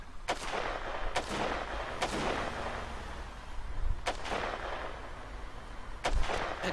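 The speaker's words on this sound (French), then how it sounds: "je vais tirer dans tous" Shots fired in the racing game Destruction Derby, five or six sharp reports spaced about a second apart over a low rumbling engine bed, moderately loud and close.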